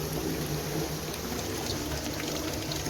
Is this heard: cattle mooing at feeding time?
no